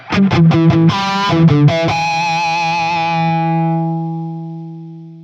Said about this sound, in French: On entend sur la fin de la note que le noise gate apparaît progressivement